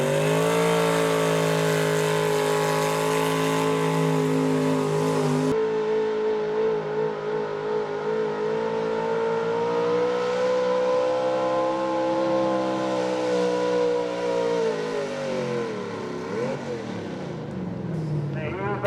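A 1980 Chevy pulling truck makes its run at a truck and tractor pull. Its engine roars loud and steady with a strong harmonic drone, straining and sagging in pitch near the end.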